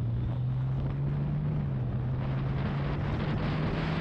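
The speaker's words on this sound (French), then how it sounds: "le bruit du moteur c'est très présent, c'est là." Honda Gold Wing six-cylinder bagger with DCT, 2024 model, heard while riding: a steady low engine drone runs throughout under rushing wind noise, continuous and fairly loud, with no talk.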